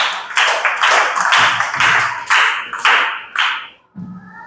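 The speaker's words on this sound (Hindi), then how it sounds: "इनके लिए भी ताली बजाइए भाई।" Students in a classroom clap together for a classmate: a few seconds of dense, steady group clapping close by that stops abruptly, followed by a brief voice.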